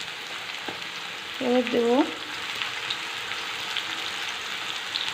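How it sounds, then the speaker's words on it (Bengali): Bitter gourd and potato frying in oil, with a continuous hiss and sizzle and a short spoken phrase partway through. "এবার আমি উচ্ছে আলুটা দিয়ে দিচ্ছি তেলের পরে।"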